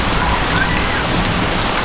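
Heavy tropical rain pours down during a thunderstorm in Naga City, Philippines, a dense, loud, steady hiss of downpour with no pauses, close by.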